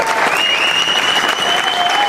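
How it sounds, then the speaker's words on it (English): An audience at a live Elvis tribute concert gives a short, loud burst of dense clapping, with thin sustained tones ringing faintly over it. "Mr. Alan Diamond, gives me a big round of applause."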